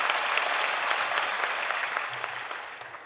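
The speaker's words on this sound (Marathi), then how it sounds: "सगळ्यांनी टाळ्या वाजवा" Audience applause at a Marathi devotional gathering marking Tukaram's Vaikunth Gaman ceremony at Prati Dehu Pavandham, a continuous crowd of clapping hands that stays fairly loud and slowly tapers toward the end.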